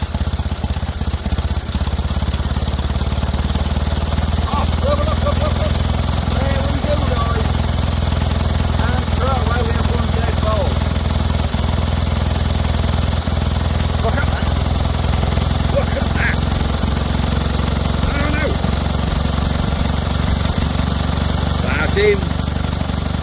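An old vintage generator engine chugs steadily, up close, with a constant rough mechanical drone throughout and faint voices in the background.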